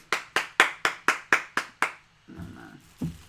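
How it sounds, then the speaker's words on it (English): Hands clap close to the microphone in an even rhythm of eight crisp claps during a live stream, followed by a short rustle and one last softer clap. "Everybody clap your hands."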